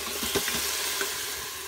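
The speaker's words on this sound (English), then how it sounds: "I'll break that up with my spatula. And then I'll cook until just brown." Ground beef browning in a pan while a spatula breaks it apart, giving a steady close sizzle with a few soft scraping strokes in the first half, then just the continuous frying hiss, no voices.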